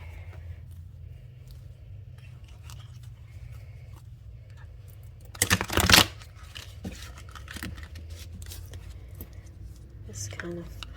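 Heart-shaped tarot card deck being shuffled by hand, one brief crisp riffle burst of cards near the middle, close, with quiet handling rustles around it.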